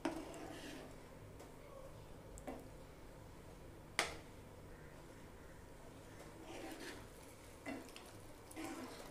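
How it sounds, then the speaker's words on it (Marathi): Paneer being stirred and smashed with a spoon while cooking down for kalakand: quiet, low-level simmering with scattered scrapes and a few sharp clicks of the spoon against the pan, no talk. "हे पनीर जे आहे ते एक चमच्याने थोडेसे स्मॅश करून घेणार आहे."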